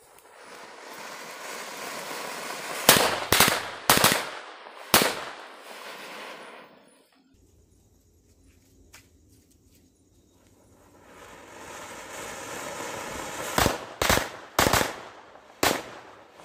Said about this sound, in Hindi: पहला हम लेंगे अनार प्लस बिजली बम, तो चलिए इसको टेस्टिंग करते हैं।